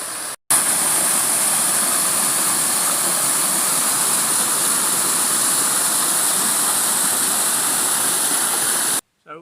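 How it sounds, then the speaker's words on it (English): A small waterfall in a clough near Gorpley Reservoir, Todmorden, gives a steady, loud rush of falling water that runs unbroken for about nine seconds with no talk. "I'm just heading down to another little waterfall that's a bit off the track"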